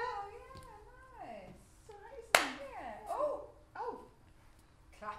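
A single sharp hand clap rings out midway through a theatre group's masked improvisation exercise, surrounded by people vocalizing and talking.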